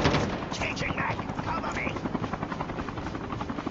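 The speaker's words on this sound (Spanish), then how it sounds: "Un helicóptero está por encima." In a multiplayer video game, a helicopter thuds loudly overhead while bursts of rapid machine-gun fire crackle through the rotor noise, and someone talks over the din.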